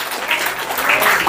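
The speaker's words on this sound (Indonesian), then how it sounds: "Tepuk tangan yang meriah buat Tuhan." A church congregation applauding during a worship service, a dense, loud burst of clapping that fills the whole moment with no voices over it.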